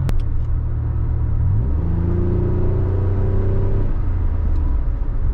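Exhaust note of a 1999-2005 Pontiac Grand Am V6 running through a muffler, a loud steady rumble that rises in pitch as the engine revs up, holds, then drops back to idle, heard close and alone.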